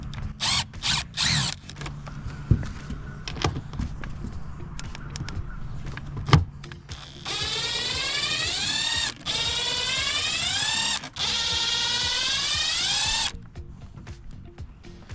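Power driver removing four T20 screws from a 2021-2022 Ford F-150 bed light assembly: clicks and short whirs, then two sustained whirring runs with rising and falling pitch, close-up and alone.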